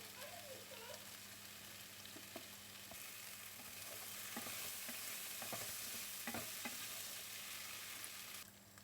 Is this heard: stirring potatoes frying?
yes